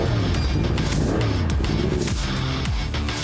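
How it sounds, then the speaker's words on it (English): Supersport racing motorcycles scream past at Winton Raceway, their engines loud and continuous as they brake and shift down through the gears, with pitch sweeping up and down between gear changes. "see the bikes diving around in the braking area into MA. Down through the gearbox they go."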